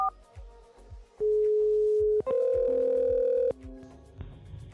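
A steady electronic VoIP ringback tone, calling Zoiper 5 on a FreePBX server, sounds twice, a long held note followed by a second, brighter tone, with faint background noise between and after.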